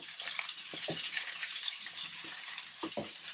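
Chopped tomatoes and capsicum are stirred in a hot pan, with a steady soft sizzle and a few brief spatula scrapes across the pan.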